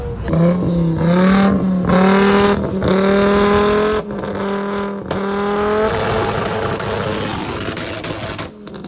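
Race cars rev hard and sweep past nearby, engine notes rising and falling in pitch with strong harmonic whines, then a rougher roar trails off as they pass.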